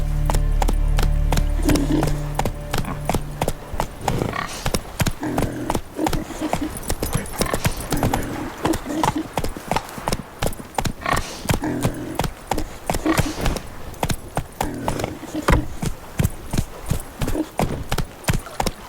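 Roach the horse galloping in The Witcher 3, a steady run of close hoof clip-clops on the ground in a quick rhythmic beat that lasts the whole stretch, with game sounds underneath.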